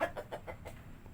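Rhode Island mahogany chickens give a short run of soft, rhythmic clucks, faint and close together, with native hens mixed in the flock.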